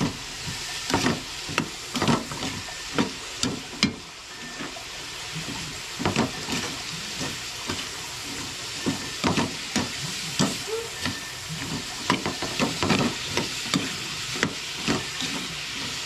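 Food cooking in a pan, with sayote, being stirred: a steady sizzling hiss runs underneath while the utensil scrapes and knocks in irregular strokes, close and fairly loud, with no voices.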